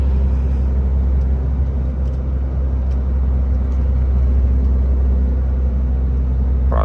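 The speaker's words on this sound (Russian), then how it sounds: "Машина немножко подбуксовывает." A loaded truck drives on a narrow snowy road. A steady, heavy engine rumble and road drone run loud and unbroken from inside the cab, with no talk.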